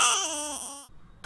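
A high-pitched child's scream or wail, loud and close, sustained for under a second and then cut off, with a brief restart at the end.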